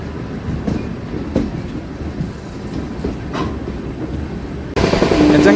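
Bhubaneswar–MGR Chennai Central superfast train on the Gudur–Vijayawada line, heard as a steady rumble of rolling wagons with faint rhythmic wheel clatter, rising louder and brighter near the end.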